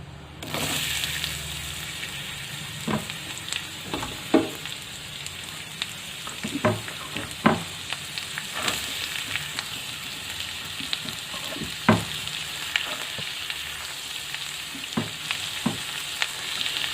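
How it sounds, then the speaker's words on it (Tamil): Steady sizzling of onions sautéing in a pan for mushroom masala, with intermittent scraping and stirring clicks over a constant hiss. "இப்போ வெங்காயம் நல்லா பொன்னிறம் ஆகிற வரைக்கும் நல்லா வதக்கிக்கலாம்"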